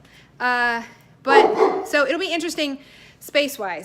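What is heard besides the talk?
dog barking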